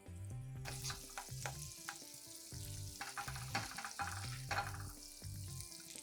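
Garlic softens in olive oil and butter in a pan with a steady, quiet sizzle. A utensil scrapes and stirs against the pan in a repeating rhythm, heard close with no voices.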